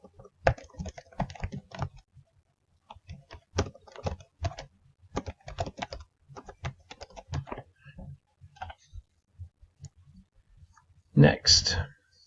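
Brisk keystrokes on a computer keyboard come in irregular bursts of clicks and taps, interleaved with a person talking, ending in a louder flurry of keys.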